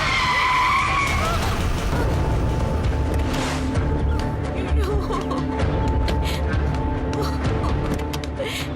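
A car skids loudly as its driver brakes hard, tyres screeching over a sustained rumble, with voices briefly audible beneath the noise.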